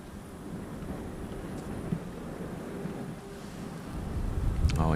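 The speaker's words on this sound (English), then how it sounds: "got a huge gust of wind." Strong gust of wind sweeping across an outdoor golf course during a junior PGA championship final round, a steady broadband roar with microphone buffeting that swells louder toward the end.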